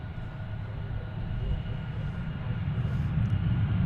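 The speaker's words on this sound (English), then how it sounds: "Some Airbus action right here." Airbus A320 airliner at DFW airport, a steady low engine rumble that builds slightly in loudness, heard at a distance with no talking over it.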